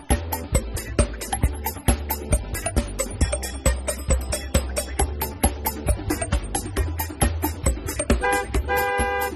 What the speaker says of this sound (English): It's the car!